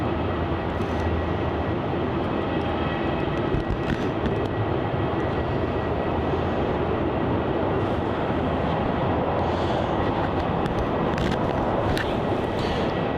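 A jet departing Melbourne Airport, a loud continuous roar that holds steady for the whole stretch, heard from the airport grounds, with no speech.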